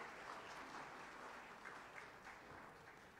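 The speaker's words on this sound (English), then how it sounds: "Round of applause for Jeff and Lois." A church congregation at a Palm Sunday worship service applauds Jeff and Lois on their 60th wedding anniversary. Many hands clap in a steady, even patter, heard faintly and at a distance.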